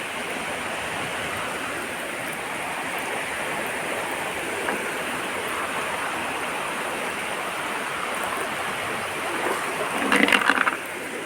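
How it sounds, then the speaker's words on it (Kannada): Flowing water rushes steadily throughout, a broad even hiss of a river stream among stones, with a brief clatter near the end. "ನೋಡಿ ಹೊಳೆ ಮಧ್ಯೆ ಬಂದಿದ್ದೀನಿ ನಾನು"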